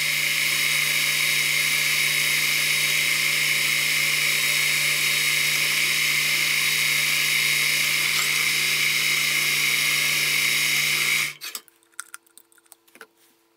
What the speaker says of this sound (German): dann auf der Ständerbohrmaschine bohren